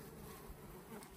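Honeybees buzzing in an opened hive during a spring inspection, a dense continuous hum of many bees close by, steady and unbroken.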